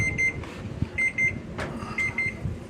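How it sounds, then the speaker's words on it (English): An oven timer beeps in a home kitchen while sweet potato pie bakes, sounding in repeated bursts of short high tones over a faint background. "as you can hear, the timer's gone off."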